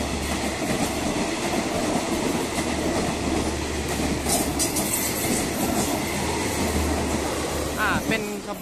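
A Thai passenger train from Sungai Kolok to Bangkok Aphiwat passes close by, with a continuous loud rolling rumble, rhythmic wheel clatter and a brief squeal near the end.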